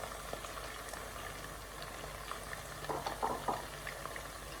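Beef pieces for crispy chilli beef frying in a pan, giving a steady bubbling sizzle of hot oil that swells briefly toward the end, continuous and close with no talk.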